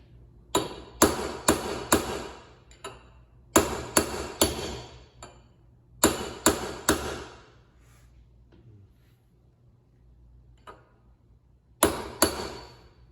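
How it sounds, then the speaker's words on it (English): Metal hammer blows driving the drive side bearing onto the gear end of a Roots blower during reassembly, sharp ringing strikes in quick bursts of three to five, separated by pauses, close and alone. "we got the drive side bearing on the gear end down"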